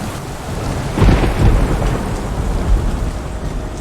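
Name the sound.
rain in the VR game Boiling Steel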